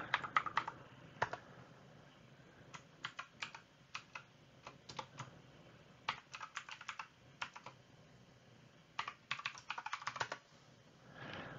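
Bursts of typing on a computer keyboard in quick clattering runs, separated by short pauses, close and fairly quiet, with no talking.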